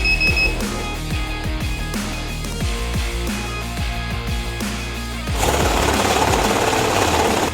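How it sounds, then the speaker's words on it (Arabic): A banknote counting machine whirs loudly and steadily as it riffles through a stack of mixed Egyptian pound bills, with short clicks along the way and a harsher rushing burst toward the end. "لو معانا مجموعة نقود من فئات مختلفة زي مثلا فئة 100 جنيه وفئة 50 جنيه وفئة 10 جنيه، الماكينة بتعد"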